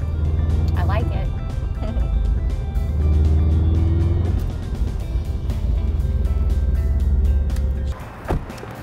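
A 2015 Subaru WRX STI on a test drive, its engine and road noise a steady loud drone throughout, with people talking over it.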